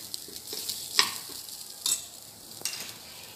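Sweet coconut rice with dry fruits being stirred in a pan, a quiet bed of faint sizzle broken by a few sharp spoon scrapes and clinks.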